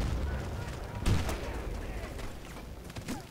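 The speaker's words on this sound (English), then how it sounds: "there were like 5 guys shooting at me" Gunfire in the video game Battlefield: Bad Company 2 during Rush mode, with a steady din of distant and nearer shots and one sharper close blast over continuous battle noise.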